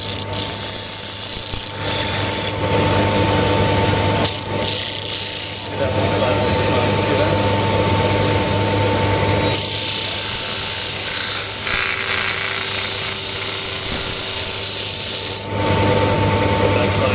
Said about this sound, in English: Make sure you get all the edges when you're sanding.